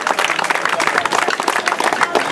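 Renewed, denser applause from the crowd at a Ravan Dahan event in Jalgaon, continuous rapid clapping throughout, with speech mixed in.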